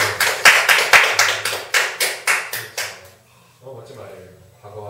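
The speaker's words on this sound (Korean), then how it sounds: "박수 한번 칠게요." Rhythmic clapping at a public lecture on mind healing, about a dozen sharp, evenly spaced claps at a steady beat that stop after three seconds, followed by quiet speech.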